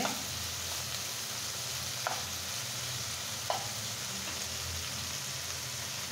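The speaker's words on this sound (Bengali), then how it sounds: "এখন এই ঝাল পেঁয়াজ রসুনের মধ্যে আমি ইলিশ মাছের টুকরা দিয়ে দিচ্ছি, ডিম দিয়ে দিচ্ছি।" Hilsa fish pieces and fish eggs frying in a pan of spicy onion and garlic, giving a steady close sizzle with occasional soft stirring clicks throughout.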